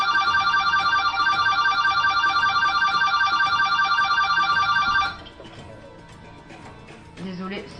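A telephone rings loudly with a steady repeating electronic trill for about five seconds, then stops, leaving faint background noise and a brief low sound at the end.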